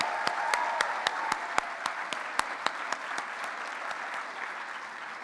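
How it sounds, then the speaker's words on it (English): Audience applause rings out for sixth- to eighth-grade student models at a teen runway exhibition, a steady crowd wash punctuated by sharp individual claps, sustained throughout and easing slightly toward the end. "let us give another round of applause to some of the most iconic 6th, 7th, and 8th graders we have ever seen"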